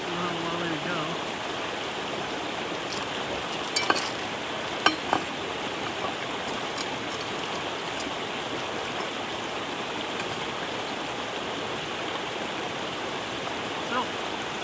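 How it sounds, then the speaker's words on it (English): A pot of water heats on a camp stove outdoors in the White Mountains, giving a steady broad hiss and rumble that holds without a break throughout, with a few faint clinks near the start. "Fill it about half full here. And we'll just let it boil."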